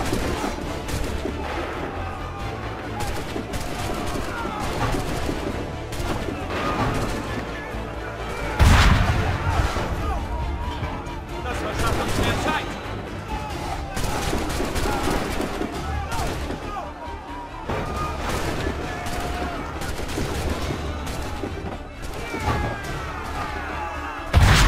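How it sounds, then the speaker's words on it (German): Gunfire in the video game Assassin's Creed III: scattered shots and crashing blasts ring out across a long stretch of battle, with loud bursts standing out, mixed with game sounds and a person talking over them. "Perfekter Schuss!"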